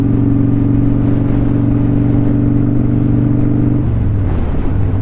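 Motorcycle riding with no windshield, the rider in a full-face helmet: a steady engine drone blended with continuous wind rush, holding even for about four seconds before the engine pitch shifts and falls away near the end.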